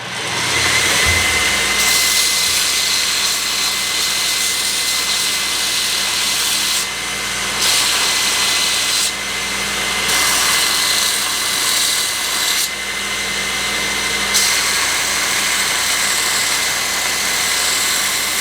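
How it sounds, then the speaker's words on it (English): A belt grinder runs steadily for the whole span, grinding flat a set hammer forged from a jackhammer bit, with a continuous loud abrasive hiss that swells in pressure as the steel is pressed against the belt and eases off between passes. "I'm over here at the belt grinder now, just trying to get it perfectly flat."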